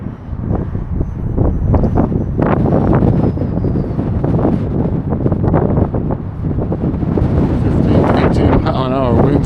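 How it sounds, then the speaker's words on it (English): Strong gusty wind of about 18 mph buffets the microphone at an outdoor model-plane flying field, with a loud, uneven rumble of surging blasts. A faint small motor whine rises briefly near the end. "18-mile-an-hour winds here."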